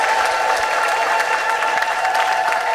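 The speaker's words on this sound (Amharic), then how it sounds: "ለጌታ ለኢየሱስ እልልታ ጭብጨባ" A church congregation claps in a continuous wash of applause, with a thin sustained high tone running through that may be ululation, all fairly close and without speech.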